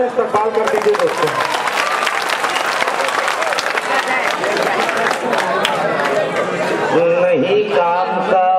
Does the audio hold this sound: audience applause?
yes